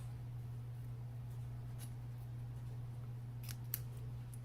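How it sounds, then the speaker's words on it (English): Scissors snipping a piece of ribbon at a quiet craft table, with a few faint, short cutting sounds over a low steady hum. "we're going to cut the ribbon in half"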